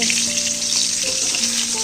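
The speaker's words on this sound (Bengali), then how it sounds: "মাছটা ভাজা হয়ে গেছে, তুলে দেবো।" Fish fries in oil in a wok, making a loud, continuous, close-up sizzle with faint tonal hums running underneath throughout the brief stretch.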